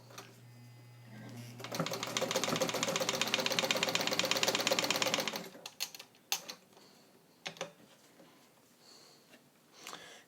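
A vintage all-metal Necchi BU Mira sewing machine, made in Italy and restored, stitches fabric in a fast, steady rattling run of about four seconds, close by, followed by a few soft handling clicks.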